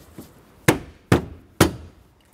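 Plastic knee-panel clips on a 2003-2021 Chevrolet Express van snap into their dash slots: three sharp, close knocks about half a second apart, each a quick hard thump with no talking.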